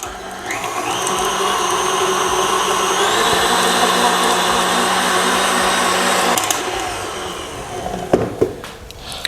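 An electric mixer beats soft, room-temperature unsalted butter for frosting, a loud continuous whirring drone lasting several seconds before cutting off, followed by a few clattering knocks.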